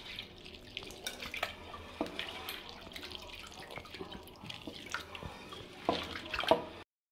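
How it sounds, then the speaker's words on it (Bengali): Red lentils (masoor dal) being rinsed in water, several washes in a row, with running tap water, splashing and dripping heard alone at close range, with stronger sloshing near the end. "এই যে ডালগুলো ভালোভাবে ধুইতেছি।"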